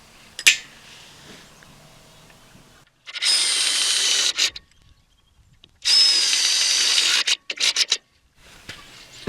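Power drill driving a Tek screw through a pre-drilled hole while assembling a high tunnel frame with pipe straps, two loud sustained whirring bursts with short trailing spurts, close up.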